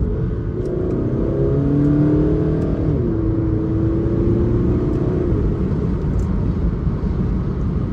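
An Audi A3 35 TDI 150 diesel accelerating in dynamic mode gives a steady, continuous engine drone that rises smoothly with the throttle, heard from inside the car with no talking.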